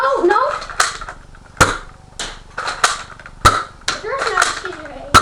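Sharp snapping shots from a Nerf gun go off one at a time, about four loud, close cracks spread over a few seconds while kids talk and shout.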